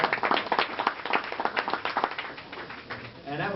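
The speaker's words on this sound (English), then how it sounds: "we should give a round of applause to Daniel" Audience applause after a Q&A session, dense rapid clapping from a room full of people, strong at first and gradually thinning out.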